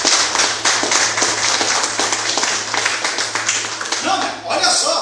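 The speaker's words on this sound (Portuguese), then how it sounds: "palmas para Jesus amado" A church congregation applauds for Jesus with dense, sustained clapping from many hands, loud and close throughout, with a voice speaking over the applause.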